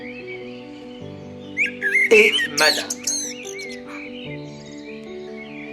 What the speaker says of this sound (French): mais d'un merle peu fréquent, un merle blanc.